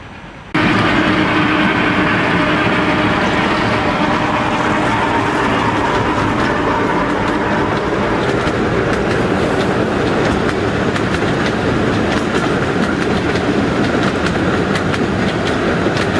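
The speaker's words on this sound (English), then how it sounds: "Sounds like a train coming." A small tourist train near Ushuaia in Tierra del Fuego runs close by, loud and steady for the whole stretch, with continuous rumbling and rhythmic clickety-clack of wheels on the rails.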